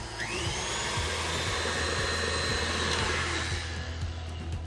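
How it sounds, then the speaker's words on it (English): An electric mixer runs on high, beating a thick marshmallow mixture for Rice Krispie bars, a steady whirring motor whine that stays close and constant from start to finish. "I'm gonna turn the mixer back on high for maybe 1 more minute"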